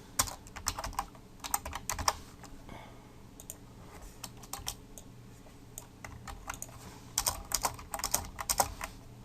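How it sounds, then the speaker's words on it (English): Rapid typing on a computer keyboard while building a PHP and MySQL table, coming in uneven bursts of close, crisp key clicks with short pauses between them and no talking. "Actually, let me just type all these out first."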